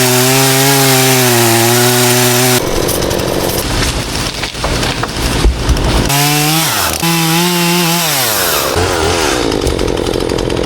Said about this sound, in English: It's a Will Start video for a Husqvarna chainsaw.